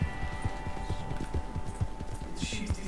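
Video game horse hooves clip-clop at a steady trotting rhythm in a Wild West setting. The hoofbeats are moderately close and repeat evenly, with faint background sound and a brief brighter noise near the end.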